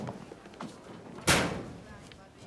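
A locker door slams shut once with a loud, sharp bang and a short ringing tail, heard in a school hallway with quiet chatter in the background.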